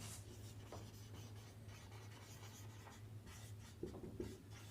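Faint scratching of a pen or marker writing on a board or paper during a class 10 maths lesson, soft rubbing strokes over a quiet room hum.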